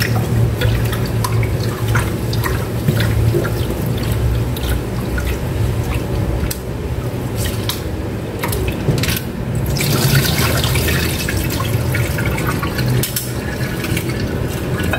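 Water being poured into a green glass, a continuous splashing, trickling stream with drips heard close up, steady for about fifteen seconds with slight changes in intensity partway through.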